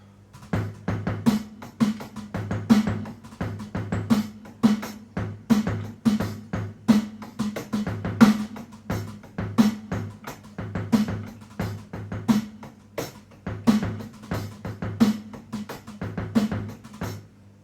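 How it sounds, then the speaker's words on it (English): A drum kit plays a steady groove, with bass drum thumps and sharp snare hits repeating in a regular rhythm, close and fairly loud. "So now we've got bass drums and snare drums"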